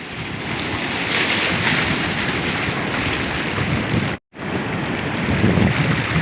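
Sea waves surge and break onto the black-and-white sand beach at Dlodo Rejosari, a loud, continuous roaring wash with wind buffeting the microphone. The roar cuts out briefly near the end, then resumes.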